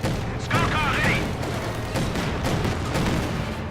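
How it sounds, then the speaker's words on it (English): Autocannon rounds from Company of Heroes 2 hammer thin American scout-car armor, a loud, dense run of sharp gunfire bursts and booms with a commentator talking over the battle throughout. "the auto cannon rounds rake through its thin American armor"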